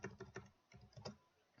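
A computer keyboard typed in several quick bursts of keystrokes, including the F2 key pressed to open a search in accounting software, close and fairly quiet with short pauses between taps.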